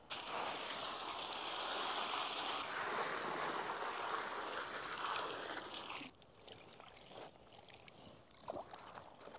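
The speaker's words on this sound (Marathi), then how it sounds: "आपण आता वांगे स्वच्छ पाण्याने धुवून घेऊ।" Brinjals are washed in clean water, with continuous close sloshing and swishing that drops to quieter, intermittent splashes toward the end.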